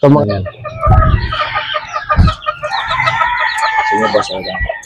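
Hens cluck and squawk busily while a rooster crows nearby, a loud, lively barnyard chorus with a voice speaking underneath.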